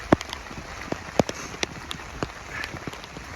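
Rain falls on a flooded, flat stretch of the Appalachian Trail near Springer Mountain, a faint steady patter with scattered louder drops and splashes.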